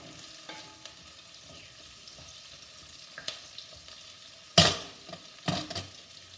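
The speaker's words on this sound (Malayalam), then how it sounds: "ഒന്ന് ഇളക്കി കൊടുക്കുക." Tuna roast masala being stirred in a pan, a faint soft sizzle under scattered scraping stirs, with two sharper clanks of the spoon against the pan near the end.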